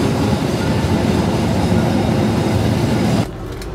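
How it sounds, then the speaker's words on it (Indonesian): The Argo Bromo Anggrek passenger train, running from Surabaya to Jakarta Gambir, rumbles steadily into a station with a heavy low roar and faint rhythmic clatter, then cuts off abruptly near the end, leaving a quieter hum. "Dan ini ada masuk kereta api Argo Bromo Anggrek dari Surabaya menuju ke stasiun Jakarta Gambir"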